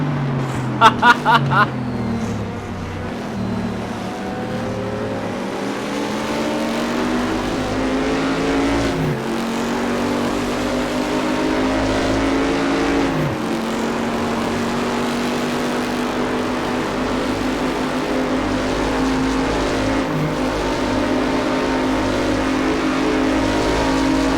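Race car engine in the RaceRoom Racing Experience video game on a PS4, a continuous loud droning roar that rises and falls in pitch through gear changes and acceleration, with a few sharp clicks near the start.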